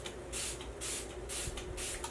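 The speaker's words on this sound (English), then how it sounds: "I'm going to spray my face with some setting spray." Makeup setting spray misted onto a face in four quick, close hissing bursts, evenly spaced, with no talking.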